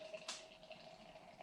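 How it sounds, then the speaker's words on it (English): Firestone Walker Double Mind Haze IPA poured from a can into a glass, a soft steady liquid trickle with a brief louder splash near the start, close and quiet. "Let's give this a nice pour here."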